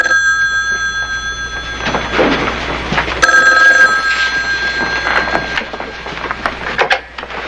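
A telephone rings on an outgoing call, repeated bell-like trills in bursts over a low hum and faint room noise.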